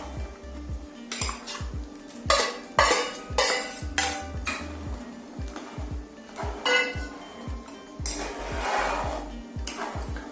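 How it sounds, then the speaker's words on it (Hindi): Fried eggplant is stirred into dal in a pot with a metal spoon, producing repeated scraping strokes and clinks against the pot in an uneven rhythm, close and fairly loud with no talking. "अब मैं इसमें मिला दूंगी ये जो बैंगन हमने फ्राई करके रखा था वो।"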